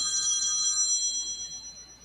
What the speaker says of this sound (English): You hear the phone? You hear it?